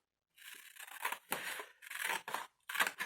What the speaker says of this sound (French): Donc, je finis de le couper.